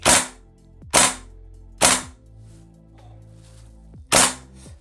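A Tokyo Marui Saiga 12 SBS airsoft replica fires four sharp, snapping single shots in semi-automatic, spaced roughly a second apart with a longer pause before the last, loud and close.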